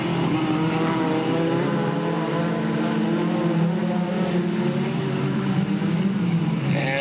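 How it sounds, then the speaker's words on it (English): Stock cars race through a corner at Delta Speedway in 1996, a loud sustained chorus of engines droning and shifting in pitch as the pack sweeps by, heard from the stands. "Cars are slicing and a dicing as they come off of that corner."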